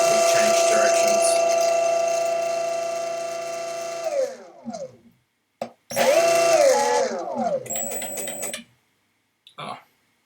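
Electric skateboard brushless motor run through a VESC controller, a loud tonal whine that winds down, spins back up and stops again as direction changes, with short gaps of silence between bursts.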